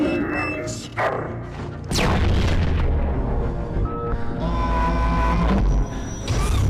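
Loud booming pyrotechnic blasts on a large film set, with crashing debris and a roaring rumble that sustains between hits, dense and powerful throughout.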